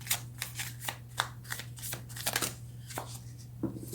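Tarot cards being shuffled and drawn by hand, a series of quick crisp riffling bursts at an irregular rhythm, close and fairly quiet over a faint steady hum.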